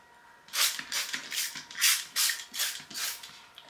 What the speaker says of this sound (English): But we're gonna spray.